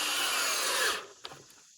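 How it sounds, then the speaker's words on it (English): A power drill whirs steadily for about a second while pre-drilling screw holes in wood for an outdoor furniture build, then winds down with a faint click. "Pre-drilling the screws helps a lot."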